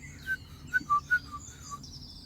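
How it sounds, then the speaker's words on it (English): A great tit sings a short series of thin, repeated high, saw-like notes in an even rhythm, fairly faint against a quiet outdoor background on the Isle of Wight. "That one's sounding like a saw. That's a great tit."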